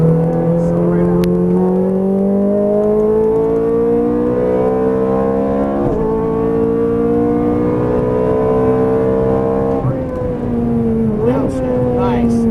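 A Ferrari F430 Scuderia engine roars loudly and steadily on a race track, pitch climbing under acceleration with brief dips at gear changes near six and ten seconds.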